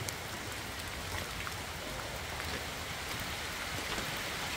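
Heavy rain pours steadily on the rainforest along Manoa Falls Trail on Oahu, Hawaii, a dense, even hiss of drops on leaves and ground that stays loud and unbroken throughout, with no voices.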